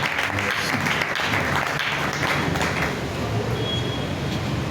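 A church congregation applauds at a Thursday worship service, a steady dense clapping that holds at an even level throughout, with a faint voice underneath.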